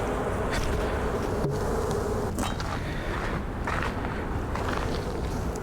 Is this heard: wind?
no